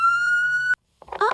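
Police car siren in a children's cartoon: a loud, steady electronic tone with bright harmonics, holding for most of a second, then cutting off abruptly before a brief burst of other noise.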